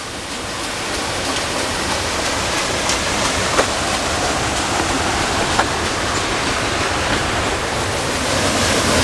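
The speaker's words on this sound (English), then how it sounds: "It's right on the other side of the water wheel, in the water wheel house, whatever you call that, releasing that much water into this crystal clear, pristine creek." Spring water rushing out beside a paddle wheel into a clear creek, a loud steady broadband roar filling the whole clip with a few faint splashes and clicks, no voices.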